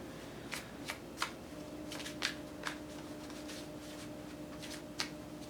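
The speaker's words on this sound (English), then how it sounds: "let me go ahead and get the animal totem card shuffling up for you" Soft, quiet tarot card shuffling with a few scattered papery flicks and riffles over a low steady background hum.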